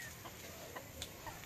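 A fast, fleeing hen gives a few short, sharp clucks while being chased, close by and over steady background noise.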